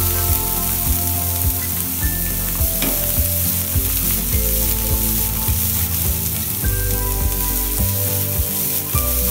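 Carrot, beans, cabbage and half an onion tossed on full flame for fried rice, a loud continuous hiss of hot-oil frying with rhythmic clanking strokes of a ladle against the pan, no voices.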